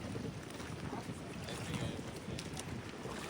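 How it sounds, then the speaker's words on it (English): Strong wind roars steadily, buffeting the microphone with continuous low rumble and gusty hiss throughout. "still very windy, but still not too stormy"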